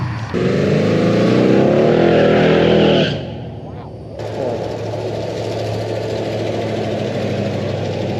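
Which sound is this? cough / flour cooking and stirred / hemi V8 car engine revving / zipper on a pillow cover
hemi V8 car engine revving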